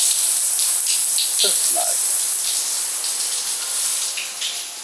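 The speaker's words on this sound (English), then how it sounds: "the water gushes from the bottom and it alternates between cold and hot" Water gushing up from the bottom of a spa pool aboard the MSC Seaside cruise ship, alternating cold and hot: a steady, close broadband hiss and rush throughout, with a person briefly speaking over it.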